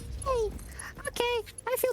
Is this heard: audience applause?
no